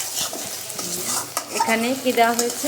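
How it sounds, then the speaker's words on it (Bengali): Cauliflower and large fish pieces frying and being stirred in a pan, a close sizzle with scraping spoon strokes throughout, while a voice talks over it. "এটাকে ভুনা ভুনা করে কষানো হচ্ছে।"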